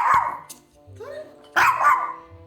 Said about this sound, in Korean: 얘가 짖긴 짖어요.